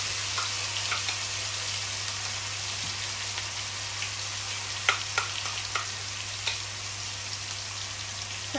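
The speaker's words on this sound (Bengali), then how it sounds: "এবারে গরম তেলের মধ্যে আমি অ্যাড করে দিব পেঁয়াজ, রসুন এবং হলুদ পেস্ট।" Onion, garlic and turmeric paste fries in hot oil for a Bangladeshi fish bhuna, giving a steady, close sizzle with scattered small pops and crackles throughout.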